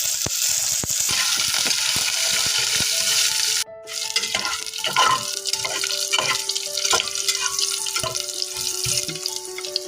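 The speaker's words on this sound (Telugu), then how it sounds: "ఈ ఆనియన్స్ కొద్దిగా గోల్డెన్ కలర్ వచ్చే వరకు రోస్ట్ చేసుకోవాలి." Chopped onions, chana dal, cumin, mustard seeds and curry leaves fry in a pan for cabbage curry, giving a close, bright sizzle that cuts out briefly midway, then returns with scattered stirring clicks and tapping.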